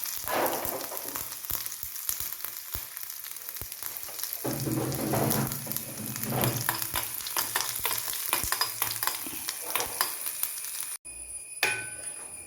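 Onion and curry leaves sizzle in oil with popping mustard seeds, a dense close frying crackle with repeated scrapes and clicks of a spoon stirring the pan, steady throughout with a brief dropout near the end.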